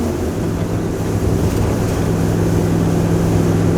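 Strong wind roars continuously across the microphone in a loud, buffeting rush, with a low steady rumble beneath and no voices.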